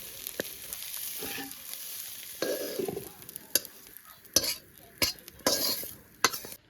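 Food fries in a pan with a little oil under a soft sizzle. Several sharp spatula scrapes and clinks on the pan land in irregular bursts during the second half.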